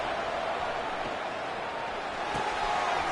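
A college football stadium crowd roars steadily and loudly as the defense tries to make a red zone stop, a dense continuous wall of cheering that swells slightly toward the end.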